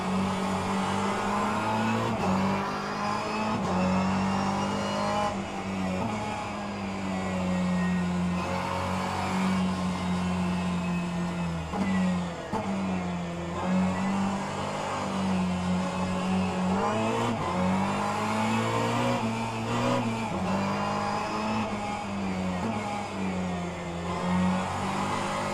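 Race cars on a formation lap in the rFactor 2 sim racing game: a constant droning engine note rising and falling with throttle, a pack of cars close together, loud and continuous for the whole stretch with no talking.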